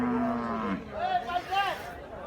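A cow at the Fatullah cattle market at night, with the crowd nearly gone, gives a low drawn-out moo followed by a couple of higher rising calls, close and clear over faint background noise.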